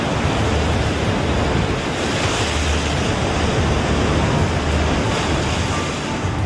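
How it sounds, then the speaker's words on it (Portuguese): Violent ocean waves pound a rocky shore in a continuous, loud, dense roar of surf with no pauses and no voices. "Ondas violentas bombardeiam a fortaleza de rochas dos lobos marinhos."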